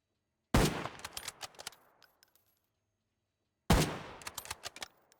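Gunfire in the shooter game Arena Breakout Infinite: two separate bursts of rapid, sharp shots a few seconds apart, each a quick loud volley that trails off into echoing tails, with silence between them.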